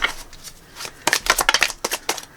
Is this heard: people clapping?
no